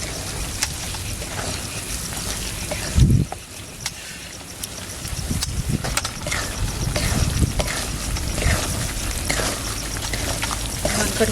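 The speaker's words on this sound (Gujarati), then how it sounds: "ઘી તો ગરમ થઈ ગયું છે આપણે રવો નાખી દઈએ" Semolina (rava) fries in hot ghee while cooking manbhog prasad with milk and saffron, producing a loud, steady rain-like hiss and crackle, with a brief louder burst partway through.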